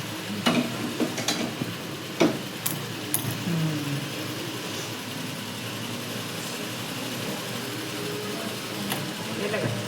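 Mustard seeds, cumin and asafoetida crackle in hot oil for a tempering, giving a steady frying sizzle with a few sharp pops early on, fairly faint, with no talk.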